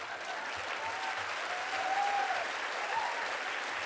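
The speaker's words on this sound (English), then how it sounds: "Don't applaud that." An audience at a commencement address breaks into sustained applause, a broad, steady wash of clapping that holds at an even level for several seconds without any speech over it.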